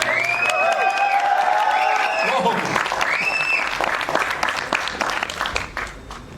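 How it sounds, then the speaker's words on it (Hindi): Crowd at an event clapping loudly for an honored guest, with music and a voice over the applause early on, the clapping thinning out toward the end. "योगराज सिंह साहब के लिए जोरदार तालियां।"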